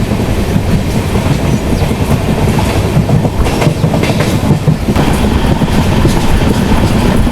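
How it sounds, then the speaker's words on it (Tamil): Pallavan Express passenger train running between Karaikkudi and Chennai Egmore near Pudukkottai, with a slight flat-wheel clatter. A steady, loud rolling rumble with a faint repeating wheel thump, continuous for the whole stretch and free of any voices. "லேசான ஃபிளாட் வீல் சவுண்டு கேக்குதுங்க."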